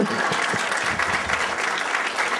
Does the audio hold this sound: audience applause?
yes